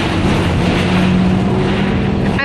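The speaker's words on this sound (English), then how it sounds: "I'm on a bus." Steady engine rumble and road noise from inside a moving bus, loud and continuous with a constant low drone and no talking.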